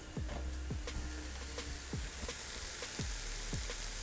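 Onion and pepper paste cooks in a pan without oil as a little water is added, giving a steady, close sizzle broken by repeated rhythmic scrapes of stirring.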